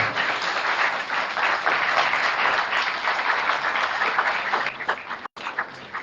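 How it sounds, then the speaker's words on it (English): An audience applauds at a mayoral candidate forum, continuous full clapping from a room of people that tapers slightly near the end. "Go ahead, round of applause."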